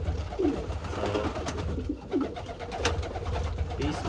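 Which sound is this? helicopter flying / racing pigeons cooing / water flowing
racing pigeons cooing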